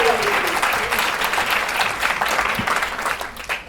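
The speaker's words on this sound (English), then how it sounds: "Give a warm applause." Warm, sustained applause from a keynote audience on a main stage in Singapore, full and even clapping from many hands, with a voice briefly audible underneath.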